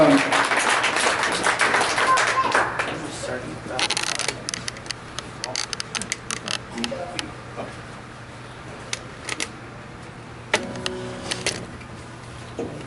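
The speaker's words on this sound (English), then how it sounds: "please give him a big round of applause" An audience in a library event room applauds at a Native American flute performance, a close, dense burst of clapping that fades after a few seconds into scattered taps and near silence.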